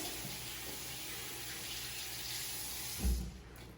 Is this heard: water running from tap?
yes